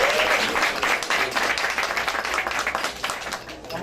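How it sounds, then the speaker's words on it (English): Warm, sustained applause from guests at a political fundraising reception, a dense crowd clapping together, close and even throughout, with no talk over it. "great round of applause for Tracy and Alonzo."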